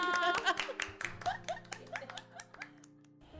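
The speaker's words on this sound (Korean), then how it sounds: "그럼 두 분을 박수로 보내드리겠습니다." Scattered audience clapping at a Lenten church radio prayer meeting, a handful of distinct claps over soft background music that thin out and fade to near silence.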